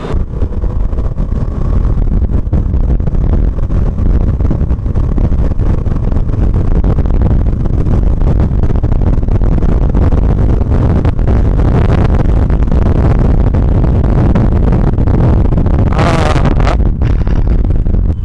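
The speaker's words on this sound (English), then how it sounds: "I just went at 80 kmph, and I gotta say, the bike didn't feel stressed at all." KTM Duke 200 motorcycle ridden at around 80 km/h, a loud continuous engine roar mixed with heavy wind rush, steady throughout with no speech.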